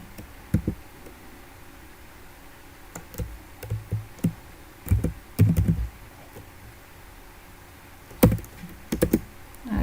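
Quick typing on a computer keyboard while writing an XPath selector, scattered clusters of light clicks and taps, close up against a quiet room hum with no talking.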